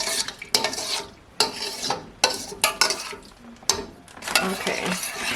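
A spoon scraping and stirring cranberry sauce with water in a pot, with irregular bursts of scraping and some clatter, close by and fairly loud.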